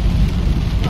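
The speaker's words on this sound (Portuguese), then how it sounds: "aqui ainda está chovendo" Steady rain falls, a dense close hiss of drops with a low rumbling undertone, continuous throughout and with no voices.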